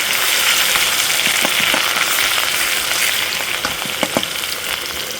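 Garlic and chili frying in a pan for a chicken and beans curry, a loud, dense, continuous sizzle with crackling pops throughout and a few sharper spatters near the end, with no talking.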